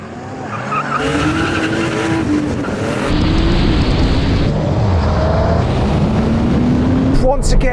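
Porsche 911 Turbo cars launch hard in a drag race, tires squealing and engines roaring up through rising revs, loud and close, with a brief pitch drop at a gear change before the howl climbs again.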